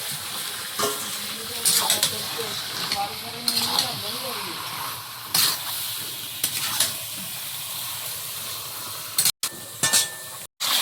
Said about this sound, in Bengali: এদিকে মাংসটা একটু ঢাকা দিয়ে দিয়ে কষিয়ে নিচ্ছি